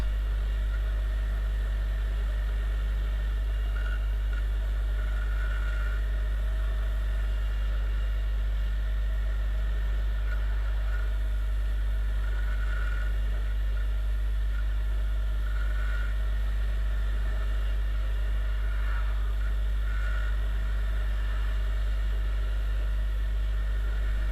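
A Viper 200 motorcycle engine runs on a mountain ride in the Carpathians, a steady, continuous low drone at an even level throughout, with no talking.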